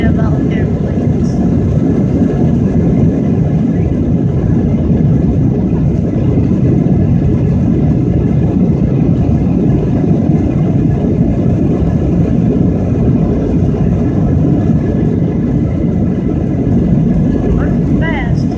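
Airliner engines roar during the takeoff roll at Portland, Maine (KPWM), a loud, unbroken, steady rumble heard from inside the cabin for nearly twenty seconds.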